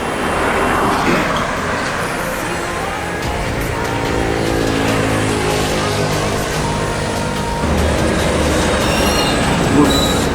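A large bus engine rumbles close by as the bus pulls in at Solo, a low droning hum under traffic noise that drops off near the end.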